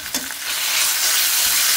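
Meat sizzles and fries in a hot pan with browned garlic for vegetable chop suey, a loud, close, continuous hiss that swells after a short clatter of stirring at the start, with no talking.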